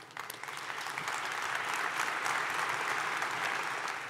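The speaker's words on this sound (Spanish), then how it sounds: "Recibimos a Carmelo con un fuerte aplauso" Sustained, even applause from a seated audience welcoming a speaker at a business summit on the future of work. It is a steady, full wash of clapping that builds slightly and holds throughout.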